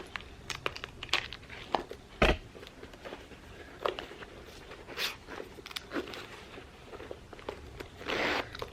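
A Louis Vuitton Pochette Metis East West bag handled with an iPhone 15 Pro inside while someone attempts to zip it, giving quiet, close, irregular bursts of zipper rasps, crinkling and rustling with no speech.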